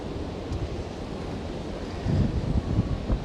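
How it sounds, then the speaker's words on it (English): Strong wind buffets the microphone on the pool deck of the Norwegian Epic cruise ship, a steady roaring rush with louder gusts in the second half and no voices. "it's very windy, very blowy"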